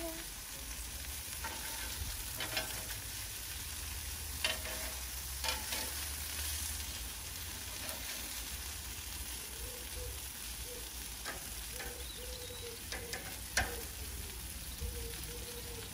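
Sausages and burgers sizzling together on a barbecue, a steady close hiss with scattered pops and crackles running throughout, no voices.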